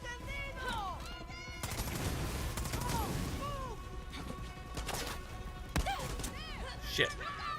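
Rapid gunfire bursts and shots in a shooter video game, loud and sustained through the middle with sharp impacts later, with someone talking over the action.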